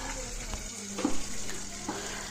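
Onion frying in a pan while chickpea snacks are prepared, a steady soft sizzle with a few light stirring clatters, close and even throughout.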